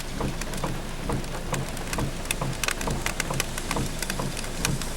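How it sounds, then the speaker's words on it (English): Steady rain falling outdoors on a street by a former school site, a dense hiss with scattered distinct drops tapping on surfaces, fairly faint and continuous with no voices. "It's a rainy day."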